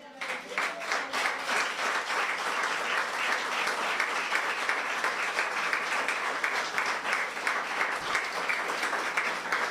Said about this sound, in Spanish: Dale un aplauso al Señor, amén.